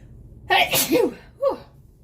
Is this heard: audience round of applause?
no